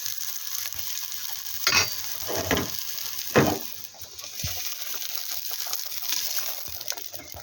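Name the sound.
onions sautéing in hot oil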